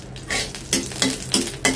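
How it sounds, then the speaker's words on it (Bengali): Dry red chillies frying in mustard oil in a pan, a soft sizzle under repeated spoon scrapes and clinks against the pan, close and fairly loud, no talk. "এখন হচ্ছে শুকনো মরিচটা একটু ভালো করে ভাজবো"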